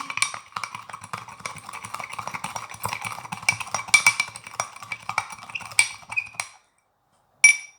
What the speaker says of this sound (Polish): I mieszamy.